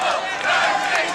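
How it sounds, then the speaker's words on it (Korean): A dense crowd in St. Peter's Square in Rome cheers and calls out for Pope Francis at a Wednesday general audience, a short loud burst of massed voices without pause. "파파 프란치스코를 외치는 함성이 점점 커져가자"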